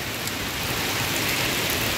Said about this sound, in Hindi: बहुत ज़्यादा ही बारिश हो रहा है